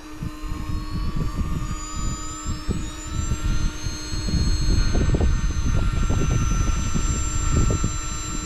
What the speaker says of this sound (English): There goes the fuel pump kicking in with the gas.